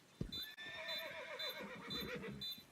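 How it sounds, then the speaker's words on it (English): A horse whinnies in a long, wavering neigh on the Inferno map of Counter-Strike, faint and distant, with a few hoof clops at the start. "Because 2 times we've heard this horse."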